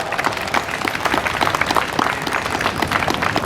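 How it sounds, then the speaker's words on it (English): An audience at a Republic Day event bursts into sustained clapping for a chief guest, a retired judge, dense and even throughout, with no talk over it. "Big hand of applause"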